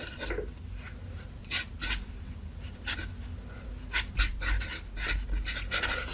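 A Sharpie marker squeaks and scratches across paper in short, close strokes, repeated in a loose rhythm at whisper-quiet volume.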